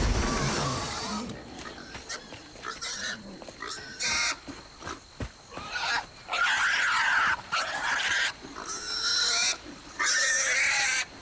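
Squealing creature in the video game South of Midnight, with bursts of high, strained squeals and yelps arriving in uneven, repeated spurts. They start thin and grow loud and frantic over a low game background.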